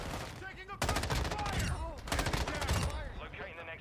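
Rapid automatic fire from the M13B rifle in Call of Duty MW2, two long loud bursts of tightly spaced shots with a brief gap between them, a quieter spell of game sounds trailing after.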